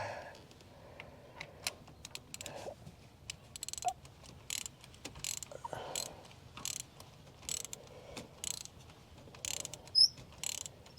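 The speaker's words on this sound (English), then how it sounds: "I think it's ready for the socket wrench" A socket wrench ratchets on engine bolts during a coil and spark plug job, giving quick bursts of clicking pawl strokes at close range in uneven spurts with short pauses between them.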